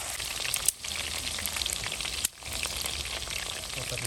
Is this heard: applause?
no